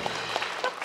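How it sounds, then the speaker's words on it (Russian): Studio audience applauding at a Russian Lotto televised draw, a brief steady patter of many hands clapping at moderate level, with no talk over it. "Все аплодисменты вам и только вам"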